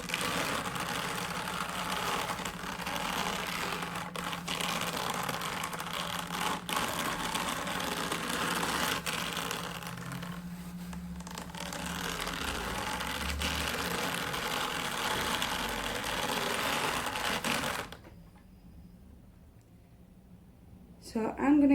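A hand-cranked drum carder processes wool fleece with a continuous rough scratching and brushing texture, close up beneath steady talking, and stops near the end, leaving quiet.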